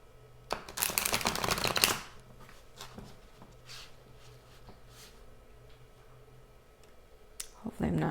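A short burst of tarot cards being riffled and shuffled, crisp and close, followed by quieter handling sounds and a brief shuffle again at the end.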